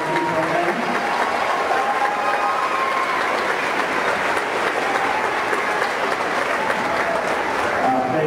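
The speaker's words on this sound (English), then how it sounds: "I think we need to give a round of applause also to Mrs. Lindsmeyer and Mr. Turk." An audience at an elementary school Christmas concert gives sustained applause, a steady wash of many hands clapping for the whole stretch, with a voice faintly mixed in.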